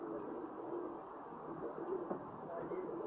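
Cheena racing pigeons, Pakistani flying birds, cooing softly in a hot outdoor loft: low, muffled throaty coos running continuously at close range, faint and slightly rough, with no clear talk.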